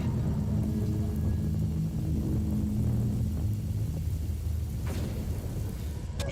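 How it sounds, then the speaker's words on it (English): A thunderstorm in the video game Sheltered 2 rolls on as a continuous low, heavy rumble with a rain-like wash, fairly loud and unbroken, and one faint sharper crack near the end. "we have the combination now, ladies and gentlemen, boys and girls, of a thunderstorm and a raid"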